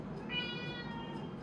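A pet cat gives a single drawn-out, high meow near a hammock at home, faint and somewhat distant against a low background hum.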